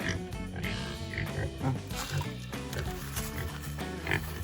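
Pigs on a village farm grunt and snort in a steady, busy stream close by, with dense rough noise and faint voices in the background.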